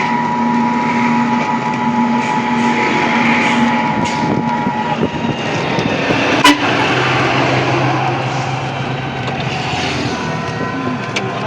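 A truck passing on a road gives a continuous engine drone and tyre rumble with a few humming tones, swelling briefly as it goes by, with no talk.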